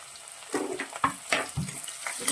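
Chopped garlic, ginger and green chilli frying in a pan for a toddy-shop style curry, a crackling sizzle broken by several scrapes and stirring knocks, no speech.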